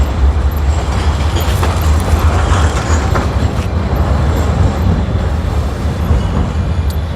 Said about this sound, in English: And now there's a tram passing by.